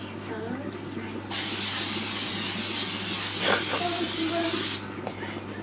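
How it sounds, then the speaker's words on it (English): A can of canola cooking spray hisses for about three and a half seconds onto a pan while chicken breast cooks, a loud continuous spray starting and stopping abruptly over a low kitchen hum. "Canola cooking spray."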